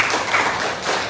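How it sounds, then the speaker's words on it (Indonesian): A group at a teacher coaching and supervision session in Tasikmalaya claps together in a short, fairly loud round of applause. "Kasih tepuk tangan."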